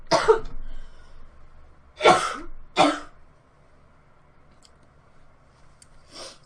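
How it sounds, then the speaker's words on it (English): A person coughs close to the microphone in four harsh, throaty bursts: two early, one shortly after, and a last one near the end, separated by quiet room tone. "And then I get to here and I start coughing up a storm."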